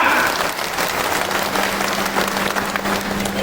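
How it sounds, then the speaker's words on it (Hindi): Loud, dense applause from a large crowd at a gathering of the Sikh community in Gwalior, with many hands clapping continuously close by. "अरे तालियां बजनी चाहिए तो सिख समाज की तालियां होनी चाहिए भैया।"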